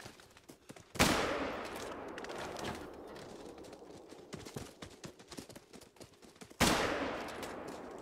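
Two loud rifle shots in the hunting video game theHunter: Call of the Wild, about five seconds apart, each with a long decaying echo, over faint rumbling hoofbeats of a stampede in the background.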